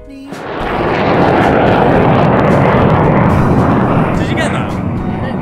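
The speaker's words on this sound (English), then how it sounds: "It was a military jet. Just flew, yeah. Right through the valley." Military jet flying low through a mountain valley in France, a loud, sustained roaring rumble that swells in quickly and holds broad and heavy for several seconds, with a voice faintly present near the end.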